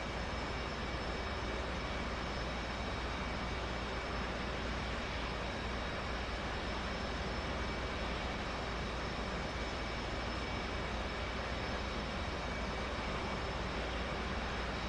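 F/A-18 jet engines running in a flight simulator video game, a steady, unchanging engine roar and whine that holds for the whole stretch at low level.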